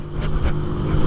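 A motorcycle fitted with a Polimet tin exhaust rumbles and revs in a steady, loud low drone for about a second, heard close with no voices.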